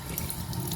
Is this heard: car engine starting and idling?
no